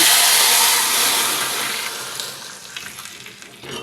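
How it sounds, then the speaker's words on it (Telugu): Loud, intense sizzling as boiled dal soup is poured into hot oil tempering with curry leaves, a dense hiss that gradually settles and softens, with faint bubbling toward the end. "మరిగించిన పప్పుచారుని పోపులో వేసేసుకోవాలి"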